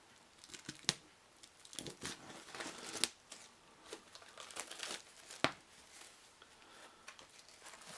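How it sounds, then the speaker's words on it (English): Plastic shrink wrap crinkles and tears off a Star Wars: Imperial Assault Twin Shadows expansion box, with sharp crackling rips and rustles scattered irregularly through the stretch, fairly close and moderately loud. "get the plastic off there"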